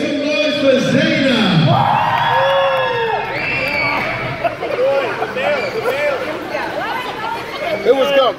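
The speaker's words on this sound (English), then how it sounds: "Make some noise for Zayna!" A lively crowd at an American Bully dog show cheers, whoops and shouts, with excited voices and chatter overlapping in a loud, close, continuous din.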